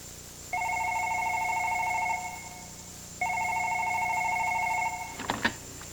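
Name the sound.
telephone ringing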